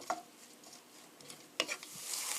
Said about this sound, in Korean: 3분 정도 볶아주세요. 그러면 여기서 파기름이 나오니까요.